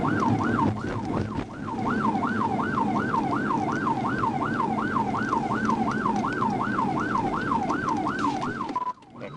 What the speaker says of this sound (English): The deputy activated his emergency lights and siren